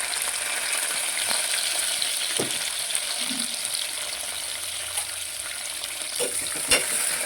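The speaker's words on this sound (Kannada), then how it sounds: "ಸ್ವಲ್ಪ ಫ್ರೈ ಆಗಲಿ" Chopped onions and green chillies sizzle steadily in hot oil in a pan over mustard and cumin seeds, with a few scraping stirs and light clinks; no one talks.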